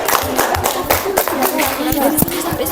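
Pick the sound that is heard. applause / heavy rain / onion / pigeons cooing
applause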